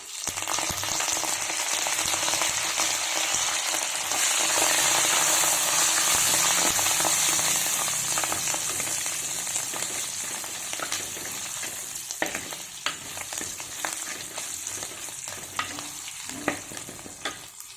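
Onions and curry leaves fry in a pan for a chicken roast, giving a strong, close sizzle that swells midway and then eases, with scattered stirring scrapes and spatters toward the end.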